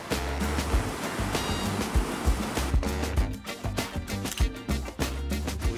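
Rough sea waves around an island bay off Trang crash and churn loudly and continuously, with irregular surges of surf close by.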